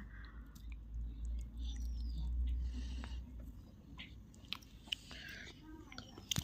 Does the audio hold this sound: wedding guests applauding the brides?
no